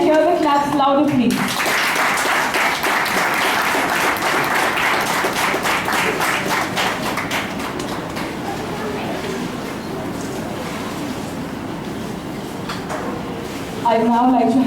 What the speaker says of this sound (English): Can I hear the claps louder, please?